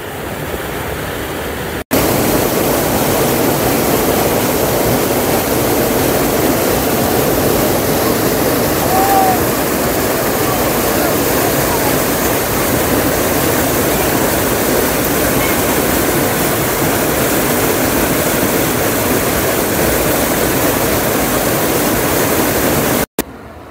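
A full waterfall at Poço Verde in Itapipoca, Ceará, overflowing after rains, gives a loud, constant rushing roar of falling water, steady and close for over twenty seconds before cutting off abruptly.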